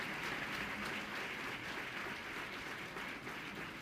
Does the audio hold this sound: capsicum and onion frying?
no